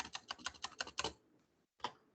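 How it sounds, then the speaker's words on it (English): Rapid keystrokes on a computer keyboard, about eight quick clicks in a steady run, then a pause and one more isolated key tap, close and clear. "if I type in a 0 and then I use a space many times like this."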